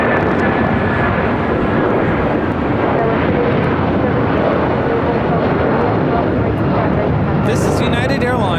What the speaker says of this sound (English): This is United Airlines 1488 taking off to Newark, 757-200 in the Star Alliance livery.